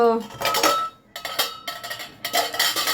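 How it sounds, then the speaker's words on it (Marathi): A metal griddle for flatbreads clanks and rattles in several bursts with short pauses between, close by, as it is handled among other pots. "तर त्या चपात्या करायच्या तर तवा वगैरे काढते"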